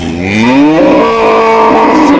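A cow at a weekly cattle fair in Punganur gives a loud, close, drawn-out moo that rises and holds for about two seconds, with no talking over it.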